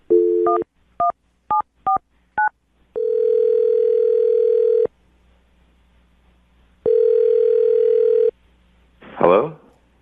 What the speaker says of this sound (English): Dial the phone number right now and get him on the phone